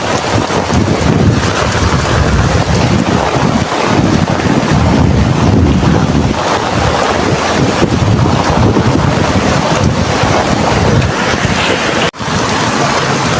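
A flooding river runs with a strong current near overflowing after rain, giving a steady, loud, unbroken rush that heavy wind buffeting on the microphone partly masks, with no talking.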